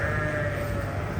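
A sheep bleats on a farm in one sustained, loud, close call that fills the moment, with no talking.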